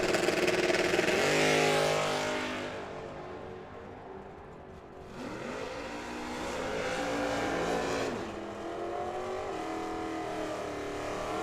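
Drag racing cars, a Volvo against a 1972 Chevelle, launch down the track at Firebird Motorsports Park: loud, close engines roar and rev with rising pitch sweeps, settle briefly, then surge again.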